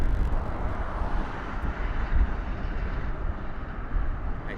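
A Delta Air Lines Boeing 757 on approach at Las Vegas Harry Reid International Airport, a steady broad jet roar drifting from a distance with no one speaking.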